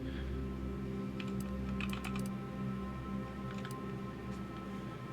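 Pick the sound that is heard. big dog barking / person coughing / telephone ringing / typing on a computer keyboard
typing on a computer keyboard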